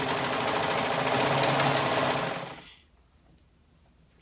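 A sewing machine or serger stitches a garment waistband loop in a steady, close mechanical whir that runs for about two and a half seconds, then cuts off into near silence.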